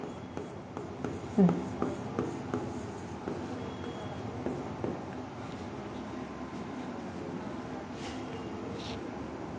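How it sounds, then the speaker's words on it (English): A pen or marker writes out a mathematics result during a calculus lesson, giving faint scratchy strokes and taps in short bursts over a quiet room hum. "I'll write the result."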